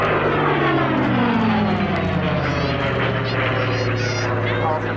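Avro Lancaster propeller aircraft flying at Cosford Airshow, a loud continuous engine drone with a slowly falling pitch as it passes, heard alone.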